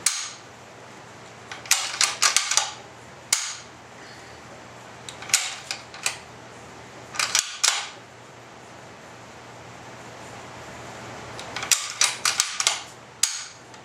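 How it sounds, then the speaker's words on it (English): A Weatherby Vanguard bolt-action rifle is worked and dry fired, giving sharp metallic clicks and clacks in irregular clusters of bolt cycling and firing-pin snaps, close up against quiet room noise. "Okay, now we're going to dry fire."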